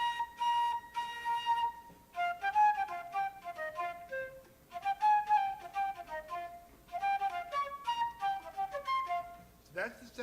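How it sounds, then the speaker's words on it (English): Breathy woodwind melody with bent, sliding notes in a loose jazzy phrasing, played solo and close, with short pauses between phrases. "So that's the sound of a flute playing a little bit of a jazz feel."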